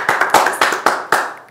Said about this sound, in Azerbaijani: Gəlin alqışlayaq qızımızı